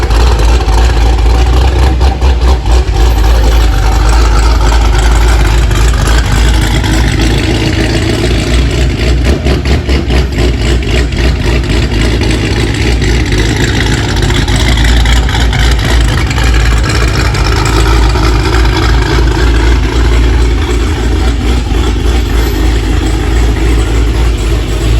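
Lumina CR8 car engine idling loudly inside a workshop, a steady, continuous rumble with a strong low throb that stays constant and close throughout, with no voices over it.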